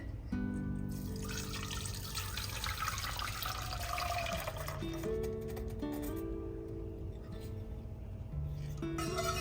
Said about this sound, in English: In order to get the smoothest texture, I'm going to strain it.